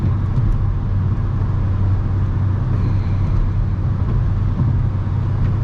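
A car driving along a curving road on a wet day with wipers in use, heard from inside as a steady, loud low rumble of engine and road noise.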